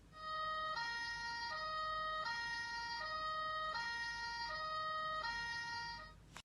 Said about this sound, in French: Une ambulance.